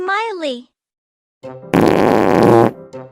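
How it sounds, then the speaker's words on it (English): A loud, sustained cartoon fart of nearly a second in an animated story, following a voice and a short silence, with brief speech resuming right after. "did you just fart?"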